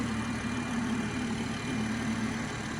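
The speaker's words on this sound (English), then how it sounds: "This is our straight six 3-litre engine with the twin scroll" A BMW 540i xDrive's straight-six 3-litre twin-scroll turbo engine idles with a steady, smooth, even hum, close by and unbroken.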